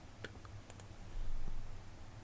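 A few faint computer mouse clicks while selecting score lines in Silhouette Studio software, sparse sharp ticks over a low steady hum, with no talking.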